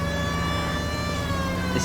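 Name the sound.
police car siren in video game LA Noire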